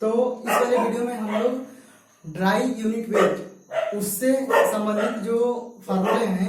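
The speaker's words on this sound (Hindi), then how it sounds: "कुत्ते गली में भौंक रहे हैं" Street dogs bark outside at night, somewhat distant, while someone talks steadily and loudly over them indoors.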